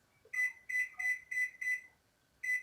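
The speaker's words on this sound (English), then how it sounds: "I'm going to set my timer again" A kitchen timer beeps while strawberry jam is being made, five quick high electronic beeps in a regular row, a short pause, then one more, loud and close in an otherwise quiet room.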